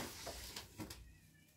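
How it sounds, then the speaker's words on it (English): Cat meowing to be let in, two short faint meows a fraction of a second apart, heard indoors against a quiet room. "And the cat wants to come in."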